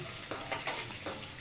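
Cashews, lentils, cumin and mustard seeds frying in a pan, a faint steady sizzle broken by soft bursts of stirring.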